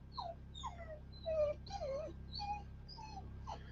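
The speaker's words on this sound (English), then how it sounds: "She's a good puppy." A puppy whimpers and whines in a run of high, wavering cries, close and fairly loud over a steady low hum, in a home in Alaska in winter.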